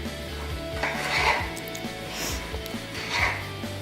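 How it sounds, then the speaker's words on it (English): Knife chopping tomatoes into cubes on a board, a handful of soft, irregular thuds and taps close by with light clatter between them. "So you just chop it to the cubes like that."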